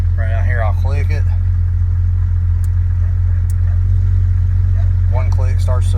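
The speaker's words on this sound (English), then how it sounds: "One click starts to rev it just a little bit." A Jeep ZJ idling at about 700 rpm with a hand throttle, loud and steady close by, the engine note lifting only slightly after one click; someone talks over it briefly at the start and again at the end.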